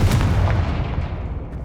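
Confringo spell blast in the Hogwarts Legacy video game, a single deep booming explosion with a heavy low rumble that decays over about a second and a half.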